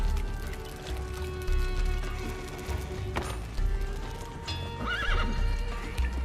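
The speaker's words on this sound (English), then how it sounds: "Come over here, horse." Horse in the video game Conan Exiles, hooves clip-clopping steadily with a whinny near the end, close and clear over a low background hum.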